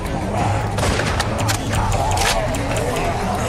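Rapid, dense crackle of gunfire in The Walking Dead video game, continuous bursts under excited talk and background game noise.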